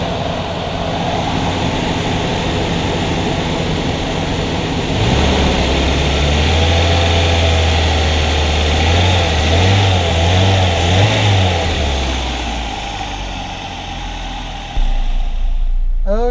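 A Ford Ranger's engine, fitted with a new fuel pump, runs loud and close, settling from a steady idle into a sustained revving stretch before easing back down near the end.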